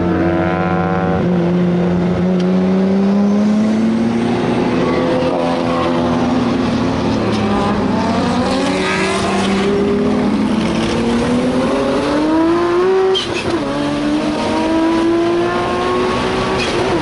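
A 1000 hp Nissan R34 GTR with a large turbo pulls hard, its engine note climbing steadily through loud, sustained acceleration heard from inside the car, with a gear change near the end.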